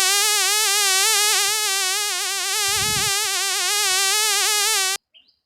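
A fly buzzes in one steady, close, loud drone that wavers slightly in pitch for about five seconds, then stops abruptly.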